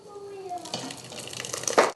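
A liquid cooking mix is slowly poured into a tea towel to drain, giving a soft, steady trickle that builds into a brief, louder splash at the end.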